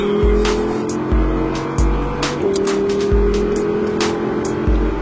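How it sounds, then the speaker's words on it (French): An Audi R8 RWS race car accelerating around the Le Castellet circuit, a loud in-car engine roar climbing through repeated gear shifts, each marked by a sharp upshift thump, with faint clicks over the top. "on lève du volant, on accélère"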